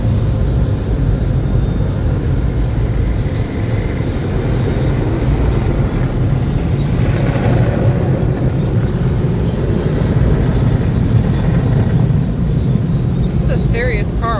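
Heavy, steady low rumble and churning of automatic car wash machinery at the Bubble Down Car Wash in Zephyrhills, Florida, heard from inside a car being carried through, continuous and loud with occasional voices.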